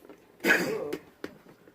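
A single muffled cough, a short throaty burst followed by a faint second catch, at a modest distance in a quiet room.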